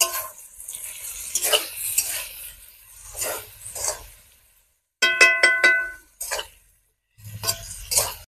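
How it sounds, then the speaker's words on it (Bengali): Chana stir-fried with Kashmiri chili powder: close, repeated bursts of sizzling and spatula scraping in a pan, broken by short silent gaps and a metallic clink in the middle. "দেব কাশ্মীরি লঙ্কার গুঁড়ো, দিয়ে এবার আমি ভালো করে এটা কষিয়ে নেব।"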